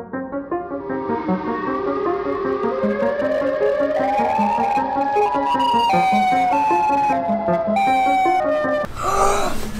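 A Siren Head creature's siren wail rises and swells as one loud, continuous, sustained howl with shifting pitch across most of the stretch, ending in a brief harsh burst.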